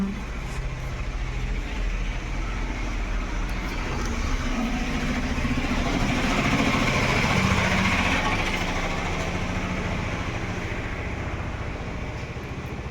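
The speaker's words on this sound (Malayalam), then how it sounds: "ഒരു വണ്ടി പോയ സൗണ്ട്" A vehicle passing by at night near a house, a low rumbling engine swelling gradually louder then fading, steady and unbroken.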